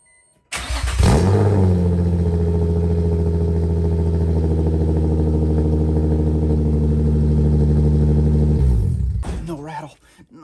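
A car engine fitted with a Tomei exhaust cranks, catches and settles into a loud, steady rumble with a low throb. After several seconds it shuts off, and a voice follows.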